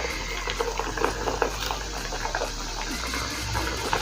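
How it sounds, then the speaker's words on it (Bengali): Rolled kucho nimki, a crisp Bengali flour snack, fries in a pan of hot oil with a dense, continuous bubbling sizzle. Small crackles pop through it, close up and alone. "বাকি বেলে রাখা নিমকিগুলো তেলের মধ্যে দিয়ে দেবো।"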